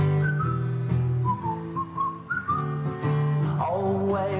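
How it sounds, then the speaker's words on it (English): Melodic whistling in a song, a bright tune of sliding notes over a steady instrumental backing. "Just purse your lips and whistle, that's the thing."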